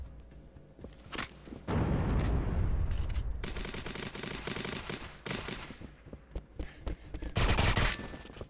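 Weapon fire from the GoldenEye video game crackles in sharp rapid bursts, with sustained automatic volleys and scattered single shots, fairly loud and nearly alone with no talking.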